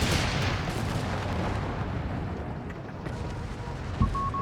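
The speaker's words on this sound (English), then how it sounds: "Americans here peppering the set with various calibers of artillery" Rumbling artillery barrage from American forces in Company of Heroes 3, a dense wash of distant booms and low explosions rolling continuously, with a sharper pop near the end.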